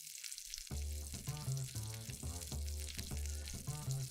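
Meatballs sizzle steadily in a hot pan, a close, bright crackle with a soft rhythmic scraping as they are stirred.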